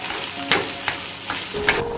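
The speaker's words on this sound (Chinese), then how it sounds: "加入炒好的牛肉，铺上面条，淋上调好的酱汁，翻炒均匀。" Noodles, cooked beef and sauce tossed in a wok, giving a continuous sizzle with three or four brief, bright clanks and scrapes of a spatula, close and fairly loud, with no voices.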